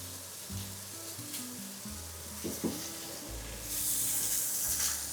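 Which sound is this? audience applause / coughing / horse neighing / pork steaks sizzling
pork steaks sizzling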